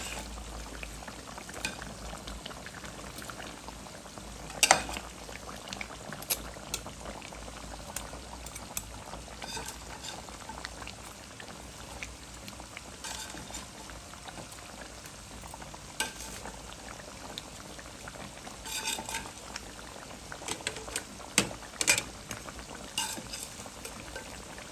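A pot of radish greens with turmeric for a hilsa fish curry comes to a rolling boil, with steady close bubbling and occasional pops and stirring clicks throughout, no voices.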